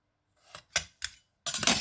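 Several short crisp snips in quick succession, close up, like scissors cutting through paper, alone in silence.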